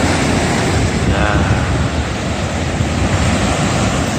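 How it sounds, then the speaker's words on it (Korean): Ocean waves break at Sodol beach in Jumunjin, a continuous loud roar of surf with wind buffeting the microphone and no clear pauses. "이제 파도가 죽이네, 그냥."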